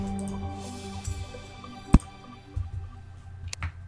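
Water splashes and drips from an underground lake in the video game Terraria, a few short wet plops and one sharper splash, close and alone with no talk.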